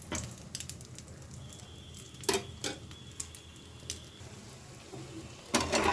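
Egg-dipped bread fries in a pan for breakfast, a steady soft sizzle with scattered ticks and utensil clicks, fairly quiet and close.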